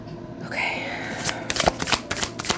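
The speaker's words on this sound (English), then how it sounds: "I'm feeling one more shuffle." Tarot cards are shuffled up close in a quiet room, giving a run of crisp riffling and slapping bursts that quicken toward the end, with soft speech underneath.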